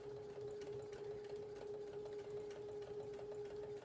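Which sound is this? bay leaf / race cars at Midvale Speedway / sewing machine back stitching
sewing machine back stitching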